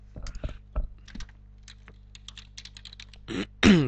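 Typing on a computer keyboard while writing in Word, a run of quick uneven key clicks with short pauses and a few louder strikes near the end, close and alone.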